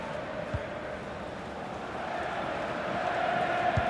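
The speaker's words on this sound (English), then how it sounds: "The crowd certainly think so. Just listen to that noise." A football stadium crowd during a tense late moment of an SSV Ulm against Hertha Berlin match, a steady roaring murmur that slowly swells louder, with a commentator speaking over it.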